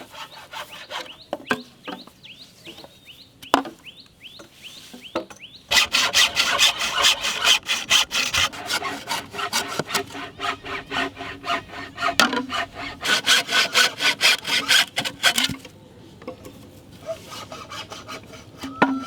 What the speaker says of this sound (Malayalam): ഈ മുളയൊക്കെ കട്ട് ചെയ്ത് നല്ലപോലെ വൃത്തിയായി കഴുകിയെടുക്കണം